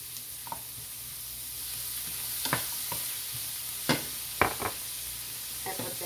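Swiss red chard stir-frying in a pan gives off a steady, quiet sizzle, broken by scattered scraping clicks as it is stirred.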